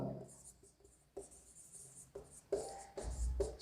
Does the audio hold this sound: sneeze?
no